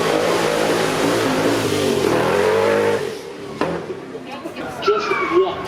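A supercar with a 6.8 litre supercharged V8 of over 1,000 horsepower roars loudly at a supercar weekend run for about three seconds, then fades and drops away while someone talks over it.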